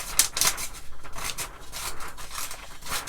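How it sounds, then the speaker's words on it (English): Scissors snip through silver foil wrapping paper in quick, crisp, rustling cuts, close and fairly quiet, with crinkling paper between strokes and no talking. "These are not cutting very well."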